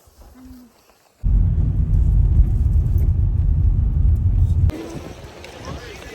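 A car's engine rumbles steadily and loudly from inside the cabin for a few seconds as travellers in London settle in, then the rumble drops away to a quieter hum.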